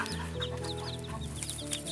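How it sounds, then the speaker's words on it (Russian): A borrowed broody hen with her nine young chicks clucking nearby, soft repeated clucks mixed with a steady scatter of high chick peeps over a low background hum. "Курица не наша, арендованная."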